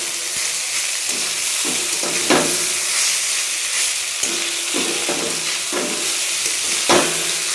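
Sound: stirring chowmein with fried potatoes in a pan

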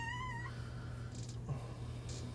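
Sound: tortoiseshell cat meowing

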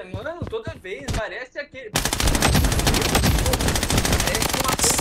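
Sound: gunfire in a PC shooter video game (Blood Strike)

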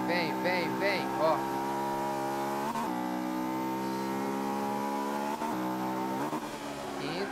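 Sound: Honda S2000 engine shifting gears in Forza 5 video game

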